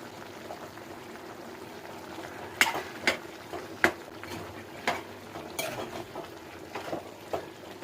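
A spoon stirs chili powder into country chicken curry in a pan. Soft, steady sizzling runs underneath, with several sharp metal clinks against the pan, close and unhurried, and no voices.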